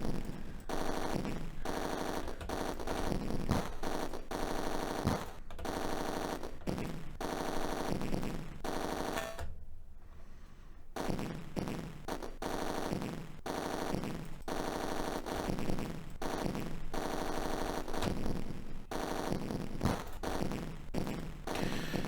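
Rapid auto-fire gunshots from the Atari ST rail shooter Roller Coaster Rumbler, a dense, loud stream of repeated synthetic shots nearly nonstop, broken by one brief gap midway.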